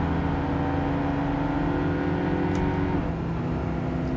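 Racing car engines in Gran Turismo 7 drone loud and close as cars run nose to tail, with a steady multi-toned whine that shifts pitch partway through.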